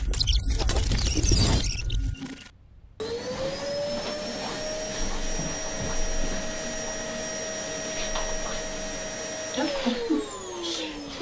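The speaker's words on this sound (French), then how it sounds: "je vous entendais pas à cause du bruit de la balayeuse" A loud, steady vacuum cleaner whine runs for several seconds after a brief noisy burst, then winds down near the end.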